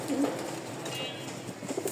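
A pigeon in full breeding mood coos in short throaty bursts close by, with a pause between calls and some faint background noise.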